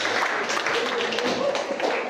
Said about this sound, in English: let's appreciate them once again with a big round of applause